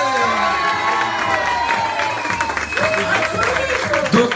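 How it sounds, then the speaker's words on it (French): An audience at an improv comedy show breaks into loud, sustained applause with cheering and whoops, a dense crowd roar filling the room from start to finish. "je vous demande d'applaudir Guillaume, le régisseur bourré"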